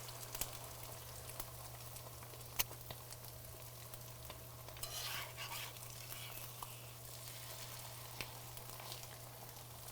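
An egg on a croque madame sandwich sizzling on a griddle, a steady quiet frying hiss with occasional soft pops and crackles, heard alone without talk.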